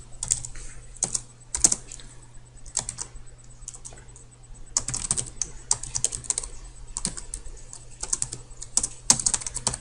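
Steady keystrokes on a computer keyboard while writing a code comment, near and clear, with rapid bursts of clicks separated by short pauses and no talking.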